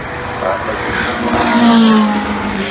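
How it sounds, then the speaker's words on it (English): A flat-12 boxer-engined racing car roars past at the Goodwood Festival of Speed with a loud, rasping drone amid broad road and wind noise, a steady high-pitched whine rising briefly. "It was the flat 12 boxer engine in the back."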